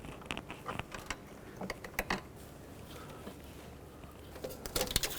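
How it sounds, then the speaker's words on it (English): A small screwdriver gently pries a hose off the intake of a 1997-2003 Ford F-150, giving faint scattered clicks, creaks and scrapes of plastic and rubber at close range, with quiet gaps between. "I'm going to grab a little screwdriver and very, very gently pry this hose off of here"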